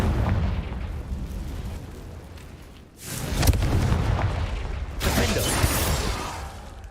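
Two loud blasts from the Confringo fire spell in Hogwarts Legacy, each a sudden crackling burst with a rumbling tail, a few seconds apart over steady game ambience.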